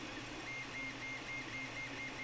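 An Ender 3 3D printer runs steadily through a print, its motors putting out a continuous whirring hum that stays even and moderately close, with no talking over it.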